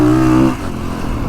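Kawasaki KX450X dirt bike engine revving loud and close, a steady high rev that drops off after half a second into a lower rumbling idle, with no talking.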